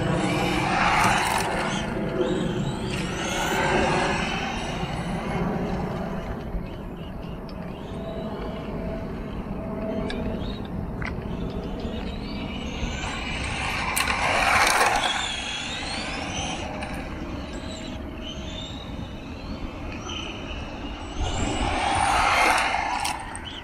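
A Tamiya TT02 Lancia Delta RC car driving, its electric motor whining in rising and falling passes, louder as it comes near at intervals, over steady background hiss.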